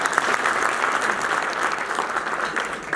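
Crowd at a Shamgarh fair event applauding to welcome a speaker to the stage, sustained, dense and fairly loud clapping that continues evenly throughout.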